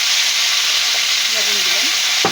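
A hilsa fish head fries in a pan with a loud, close, continuous sizzle and hiss, and faint stirring scrapes come through near the end.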